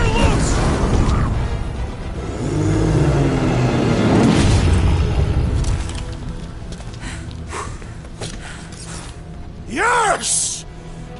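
Weapon firing and explosions in the Guardians of the Galaxy video game, heavy booming blasts and mechanical grinding rumbling loud up front, easing off into scattered effects with a rising whine near the end.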